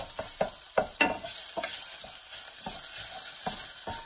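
Minced garlic sizzles in a hot pan for Korean seaweed soup, a steady frying hiss broken by the scrape and clatter of stirring, close and fairly quiet.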